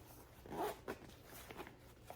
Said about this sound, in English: and then close the zipper.